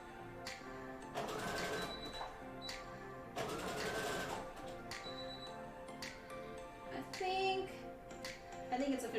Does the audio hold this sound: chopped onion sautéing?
no